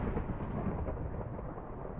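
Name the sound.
thunder from a thunderstorm attack in the video game Tensura: Advent of Magic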